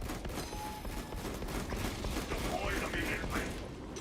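Dense, continuous gunfire and explosive bursts from frag grenade combat in the video game Space Marine 2 roar loudly throughout, with voices mixed into the battle noise.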